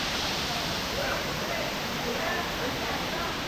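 Steady, full-bodied rush of Rampachodavaram waterfall, a dense continuous roar of falling water that stays even from start to finish with no breaks.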